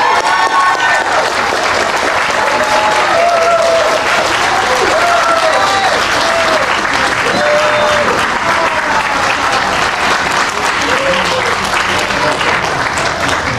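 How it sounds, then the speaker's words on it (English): A groundbreaking-ceremony audience gives sustained applause mixed with cheering voices and whoops. The clapping runs steady and loud for the whole stretch. "Please give a round of applause."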